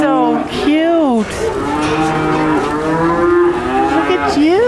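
Cows moo loudly and close, several long drawn-out calls overlapping one another, with rising and falling pitch in a continuous chorus from livestock in a farm setting.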